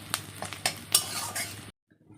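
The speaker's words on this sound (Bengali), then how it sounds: "ডালটা এখন আমি ফোড়ন দিচ্ছি" Spices crackling in hot oil for tempering dal, a short close burst of sizzling with a few sharp pops and metallic clinks from stirring, cutting off abruptly into near silence.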